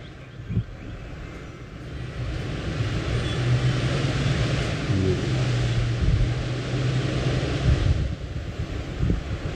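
Strong tornado-weather wind roaring and buffeting a microphone, a continuous low rumble with gusty surges throughout, no talking.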